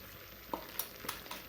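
Ground sesame and peanut paste goes into a hot pan with a little hot water for a Bhogi vegetable dish, giving a soft steady sizzle and a few sharp scraping stir strokes, close and fairly quiet, with no talking.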